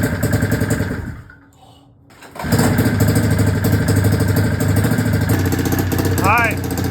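A snowmobile engine fitted to an off-road go kart runs close and loud, fades briefly, then catches and settles into a steady rumbling idle.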